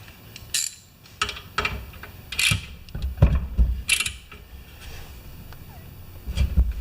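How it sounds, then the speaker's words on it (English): A washer and bolt are turned into a Briggs motor, giving a run of close, light metallic clicks, ratcheting ticks and small clanks in an irregular rhythm. "So let's get the washer on the bolt and turn that in"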